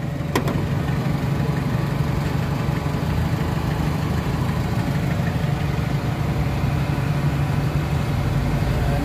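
A Mitsubishi Adventure engine with a throttle delay and low power fault idles steadily and loud at close range, a continuous low rumble with a brief sharp tick near the start.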